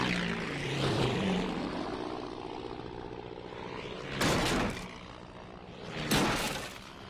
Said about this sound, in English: Look, there's Mr. Quagmire's plane.